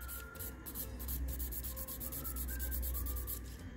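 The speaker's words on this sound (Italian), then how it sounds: "Sto limando con una 180, comunque non ho troppo prodotto da limare." Fingernail gel is being filed with a 180-grit nail file: a quiet, close, rapid scratchy rubbing in quick repeated strokes, continuous and even throughout, with no voices.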